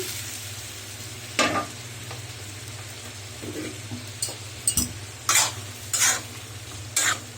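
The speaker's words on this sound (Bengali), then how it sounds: "এখন আমি চিংড়ি মাছগুলোকে এখানে মশলাতে দিয়ে দিচ্ছি" Fried prawns are stirred into a sizzling masala in a pan for a prawn bhuna, a steady low sizzle broken by several sharp scraping strokes of a spoon against the pan, close and moderately quiet.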